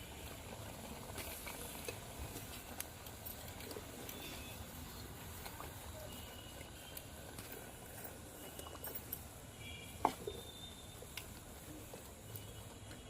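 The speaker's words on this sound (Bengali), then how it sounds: "তেলটা গরম হয়ে গেছে এবার নিমকিগুলো ভেজে নেবো" Nimki, a flour snack, frying in hot oil: a steady, dense bubbling crackle that runs without a break, with an occasional sharper pop and no voices.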